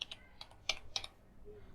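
Several keystrokes typed on a computer keyboard while entering localhost in a web browser, spaced unevenly with short gaps between them, close and fairly quiet with no voices.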